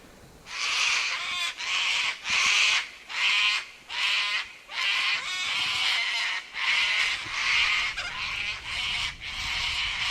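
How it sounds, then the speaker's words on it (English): Sulphur-crested cockatoos screeching in Australia during breeding season, a long series of harsh raucous squawks in uneven bursts, fairly close and loud, one call after another with brief gaps between, no voices heard. "The sound of sulphur-crested cockatoos is unmistakably Australian."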